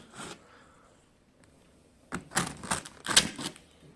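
The cardboard box of a YUI M-120 stand mixer is opened in short bursts of scraping, tearing and crinkling. Brief quiet gaps separate the close, crisp rustles, and nobody speaks.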